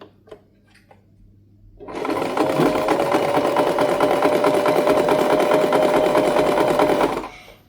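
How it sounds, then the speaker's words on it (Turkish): A sewing machine stitches thin muslin fabric, starting after a quiet moment and running as a loud, steady, fast mechanical whir for about five seconds before stopping abruptly. "Kumaşım çok e, ince e, tülbent kumaşı olduğu için şöyle tutarak çekerek dikiyorum."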